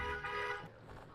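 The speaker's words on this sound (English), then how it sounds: "That was very nice of him to just honk right outside my house." A car horn honks outside a house, a brief blaring tone that fades after about half a second, faint and slightly distant.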